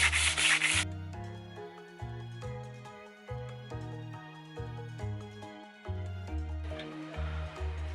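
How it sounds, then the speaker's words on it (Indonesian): 80-grit sandpaper rubs rhythmically against wood in repeated strokes, a coarse scratchy sound under steady background music. "menggunakan amplas grade 80 ini alasannya agar dia ini ya lebih"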